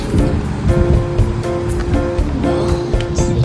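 The strong current of the Agos River rushes and churns in a loud, continuous wash of water, steady throughout with no voices.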